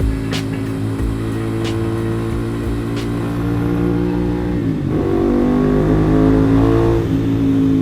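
Motorcycle with a new clutch revving and accelerating while riding: a loud, close engine drone, a brief dip around a gear change, then the revs build steadily again.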